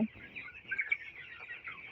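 Soft, busy peeping and clucking from a group of eighteen-day-old broiler chicks, a steady chorus of small calls close by with no talking.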